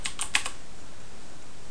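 A few quick keystrokes on a computer keyboard, four close, crisp clicks in a short burst, then quiet room tone.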